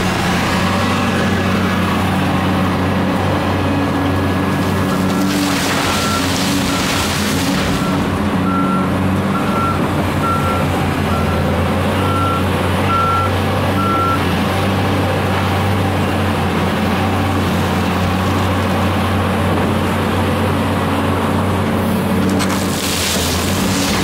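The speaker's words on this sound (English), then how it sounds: "This is a 40-ton truck. That's what the B40E stands for." A B40E 40-ton haul truck is loaded amid steady heavy diesel engine rumble, with a repeating reversing beep and occasional loud thuds of material dropping into the bed, continuous and fairly close.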